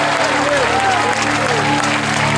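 Steady, dense clapping from a church congregation, continuous throughout with a faint tonal hum and music underneath.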